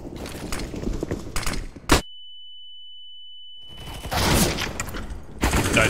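Rapid bursts of automatic gunfire from a video game, a loud volley, then near-silence broken by a single tone, then more heavy firing close up.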